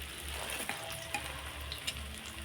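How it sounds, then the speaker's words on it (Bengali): Gram flour batter sizzling steadily in hot oil as it fries, with a continuous close crackle and faint bubbling throughout. "আমি আবার তেলের মধ্যে ছেড়ে দিচ্ছি বেসনগুলো।"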